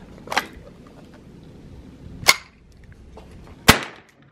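A .22 rifle with a binary trigger fires three sharp, spaced cracks, each brief and loud against a quiet background, with long pauses between shots.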